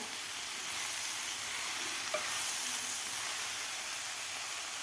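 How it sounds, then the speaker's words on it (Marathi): Fenugreek and spinach leaves sauté in a pan with a steady hissing sizzle that stays even throughout, with one faint clink partway in and no voices. "आता हे सुद्धा आपल्याला 1 मिनिटभर परतून घ्यायचे आहे पालेभाज्यासुद्धा"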